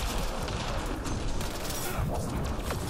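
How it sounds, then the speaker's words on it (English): Rapid gunfire and combat noise from the video game Mass Effect Andromeda, a dense fusillade of shots with mechanical clatter running throughout at close range. "Let's see if the cloak stops gunfire"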